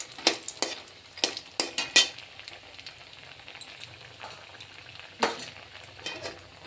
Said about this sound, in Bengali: ভেজে উঠিয়ে নেব